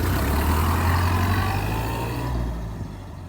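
An unrestored 1929 Ford Model A engine runs loud and close with a steady low rumble, easing off slightly toward the end as the car gets underway.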